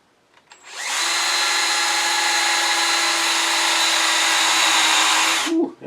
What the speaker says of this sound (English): just not drilling by hand very well